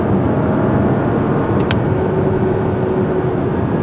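A 2025 Audi Q7 with a V6 cruising on the road, heard from inside as a constant, fairly loud broadband rumble of engine and tire noise, with a brief faint click partway through and no talking.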